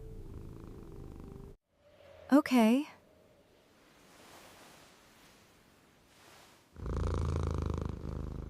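A low, rumbling purr comes in two bursts, one at the start and one at the end. Between them a short spoken word and some brief vocal swoops are heard.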